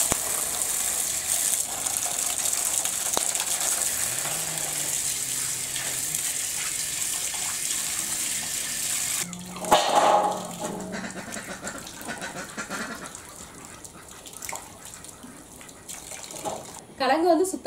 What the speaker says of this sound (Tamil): இந்த கிழங்கு வந்து ஒரு 4-5 டைம் வந்து சுத்தமா எல்லாம் கழுவி எடுத்துக்கலாம்